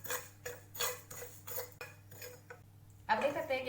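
Cumin seeds roasting in a dry pan, stirred with a spoon in rhythmic scraping strokes about twice a second, ending in a brighter rattling sizzle, close and moderately quiet.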